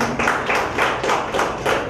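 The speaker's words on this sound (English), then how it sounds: "please clap for him" Audience clapping at a felicitation program for selected students, a steady run of hand claps with regular rhythmic peaks, close and fairly loud with no talking over it.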